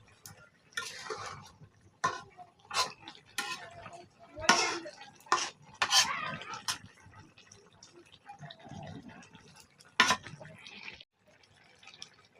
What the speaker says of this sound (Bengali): আর একটু আস্তে নাড়া দিয়ে নিচ্ছি যাতে মাছগুলো ভেঙে না যায়